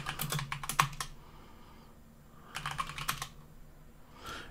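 Quick clattering keystrokes on a computer keyboard enter a pacman command on Arch Linux, in two short bursts separated by a brief pause, with a few softer taps at the end.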